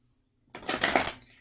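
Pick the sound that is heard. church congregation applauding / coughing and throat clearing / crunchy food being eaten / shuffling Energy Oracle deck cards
shuffling Energy Oracle deck cards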